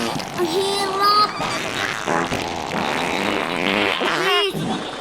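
A fart blurts out amid a noisy group of friends chatting and laughing, its rasping tone sitting among overlapping voices across a few seconds.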